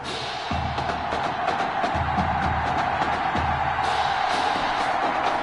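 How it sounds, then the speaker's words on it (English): Stadium crowd noise in the football game Madden 21, a continuous broad roar with scattered whoops and rising cheers, steady and fairly loud, with faint low thumps underneath. "the crowd is loud and on its feet"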